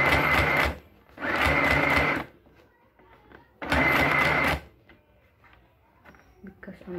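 An electric sewing machine stitches a blouse collar in three loud, steady whirring runs separated by quiet pauses with faint handling noises.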